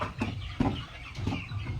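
Free-range village chickens being fed and watered at home, giving a few soft, short clucks spread out at moderate distance with no talking.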